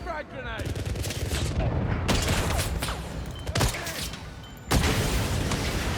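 Repeated gunshots in the 007 First Light video game, a few sharp cracks spread over several seconds with a dense layer of game noise and clatter running throughout.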